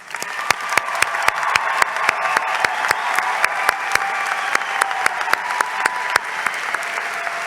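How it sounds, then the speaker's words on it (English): A convocation audience applauds college graduates with sustained, even crowd clapping, a few sharp individual claps standing out near the front. "We'll give you one more round of applause."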